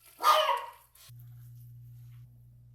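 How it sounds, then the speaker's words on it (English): A single short dog bark close by in a home kitchen, followed by quiet with a low electrical hum. "Commence Ace barking."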